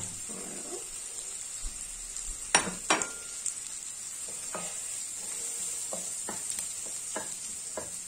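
Onions fry in a pan for a seafood rice dish, giving a soft, continuous sizzle broken by scattered scrapes and clinks as a utensil stirs them against the pan.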